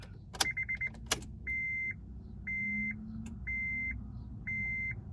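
An Acura RSX Type S with a K24 engine swap and low fuel hums faintly as its fuel pump primes. Key clicks come first, then a run of evenly spaced electronic chime beeps over the quiet whir.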